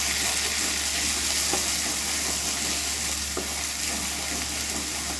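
Coriander powder stirred into a frying capsicum paneer curry with onion paste: a steady, close sizzle runs throughout with faint scraping of the spoon, no voices.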